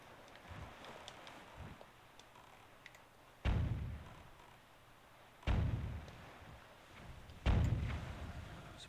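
Three heavy booming cannon shots in The Legend of Zelda: The Wind Waker, spaced about two seconds apart, each with a rumbling decay, over faint ticking in the background.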